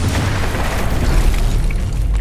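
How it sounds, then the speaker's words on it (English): A loud, deep boom of an explosion in the strategy video game Heart of the Machine, a dense low rumble sustained across the short moment with no voices. "That sounded like a pretty serious explosion."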